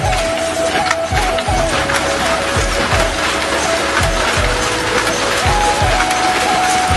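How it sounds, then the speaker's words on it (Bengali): An old, 70-year-old Tangail handloom in a weaver's home in Rampur, Bangladesh, beating out a loud, steady rhythm of wooden clacks and ratcheting knocks over a constant mechanical background. "তাদের 70 বছরেরও পুরনো তাঁত ঘুরে দেখায় এই দুই ভাই।"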